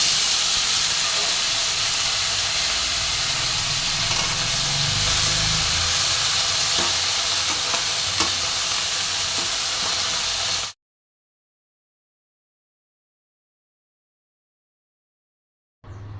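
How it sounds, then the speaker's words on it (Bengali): Broccoli and papaya frying lightly in oil with white cumin seeds: a steady, loud broadband sizzle and hiss for about ten seconds, then an abrupt cut to silence before a brief return at the end. "হালকা করে ভেজে নেব।"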